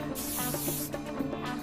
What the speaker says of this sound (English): spray again with a bit of hairspray to secure